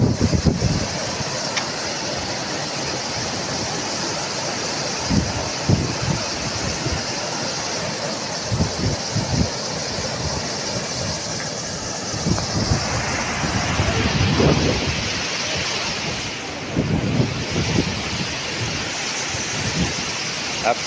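Fast-flowing canal water rushes steadily at close range at a historic embankment in Thatta, a broad broadband roar with scattered splashes and bursts, set against wind buffeting the microphone.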